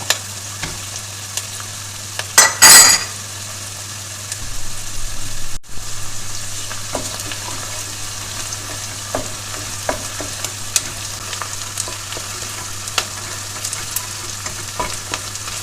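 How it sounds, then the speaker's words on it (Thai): Onion and tomato paste stir-fried in oil for a Turkish chickpea stew, a steady close sizzle with scraping and stirring throughout, including a brief louder burst of spatter early on, and no talking. "ผัดให้ตัวน้ำมันมันออกนะคะ"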